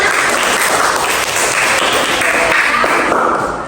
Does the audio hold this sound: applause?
yes